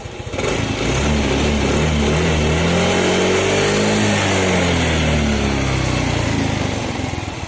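A Yamaha Mio i 125 scooter engine revs up to a steady mid-range drone at half throttle, its pitch climbing and dipping slightly, loud and close with no talking.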